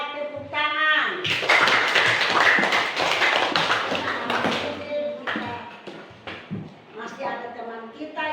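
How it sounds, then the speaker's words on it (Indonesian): Classroom of children clapping hands together in a rhythmic burst of taps that peaks and then thins into scattered claps, with a teacher's voice talking before and after. "Ya, tepuk tangan."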